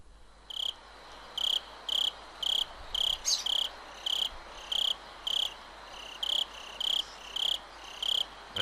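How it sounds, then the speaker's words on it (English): Crickets in the ambient soundscape of the visual novel Higurashi chirp in steady, evenly spaced bursts, loud and continuous with no other sounds or talk. "As the crickets chirp,"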